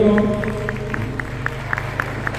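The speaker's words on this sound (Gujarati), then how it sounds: "તાળીઓથી વધાવી લો." A few people clap in a slow, evenly spaced rhythm at a Hatkesh Nagar community family gathering in Maninagar, the claps light and sparse over a low hum of the hall.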